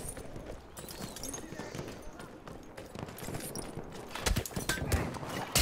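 A horse's hooves clop at a gallop in Battlefield 1, rising toward the end amid distant gunfire and battlefield noise, with a player talking over the mix.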